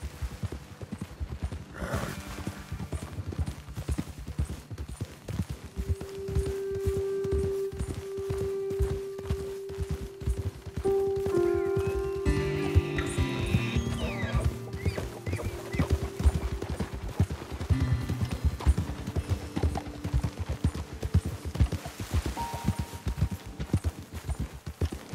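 Horses in the video game Red Dead Redemption 2 trot along in a steady clip-clop of hooves, with a whinny rising among the rhythmic footfalls and in-game ambience over the middle stretch.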